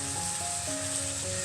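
Onion and tomato gravy sautés in oil with a quiet, even sizzle, faint and steady over a short stretch with no voices, while a thin musical tone plays underneath.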